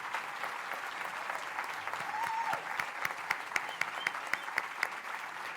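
Audience applause at an annual report event of a national human rights commission, steady mid-level clapping from a crowd with sharper individual claps standing out toward the end.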